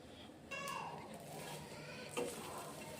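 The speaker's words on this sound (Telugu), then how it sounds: "రొయ్యలు వేసుకున్నా ఇప్పుడు వేయించుకుంటున్నా" Dried prawns fry in a pan on a stove, making a soft, steady sizzle with occasional stirring scrapes, quiet and close, with no speech.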